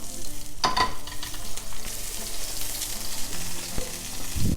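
Egg and other ingredients fry in a second pan over low heat for a kangaroo burger meal, giving a steady, close crackling sizzle with a few sharper clinks and scrapes, and no voices.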